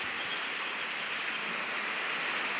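Heavy monsoon rain in Banaskantha, Gujarat, pouring in a dense, even hiss, steady and close throughout with no voices.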